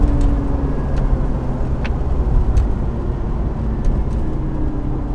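A high-mileage Ford F250 pickup with a 6.2L gas engine, towing a load on a grade, gives a steady, loud in-cab drone of engine and road rumble with a constant low hum, no voices and a few faint clicks.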